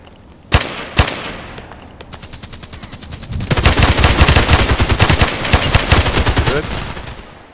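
AEK-971 rifle fire in Contract Wars, two single sharp shots followed by long rapid automatic bursts, loud and close, with little else in the background.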